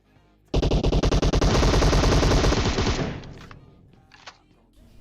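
Loud bursts of rapid automatic gunfire in PUBG Mobile, a stuttering volley that becomes a sustained roar for about two and a half seconds, then fades into a few faint trailing sounds.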